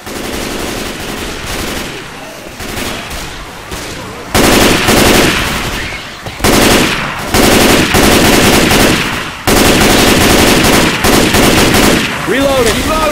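Rapid automatic gunfire from the video game Left 4 Dead 2, loud bursts alternating with short gaps, with voices calling out in between.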